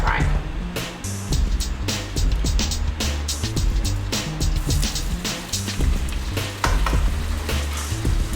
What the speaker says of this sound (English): So I'm just going to scoop these out of the pan and start frying them.